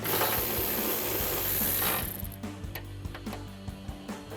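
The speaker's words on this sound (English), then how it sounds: "So take a 10mm socket and remove those." 10mm socket wrench removing the nuts that hold the deck lid on a 2024-2026 Mustang GT, a loud buzzing whir at first, then quick ratcheting clicks in short irregular bursts, up close, with no talking.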